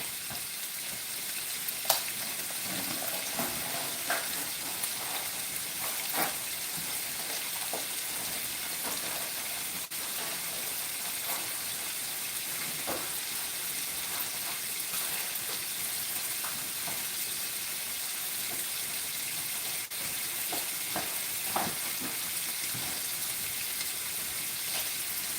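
Sausage and broccoli rabe sizzle and brown in a pan with a steady frying hiss, broken by small pops and crackles, throughout.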